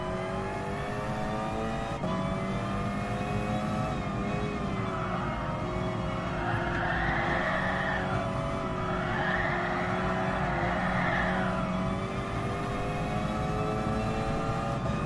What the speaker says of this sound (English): I love driving this car.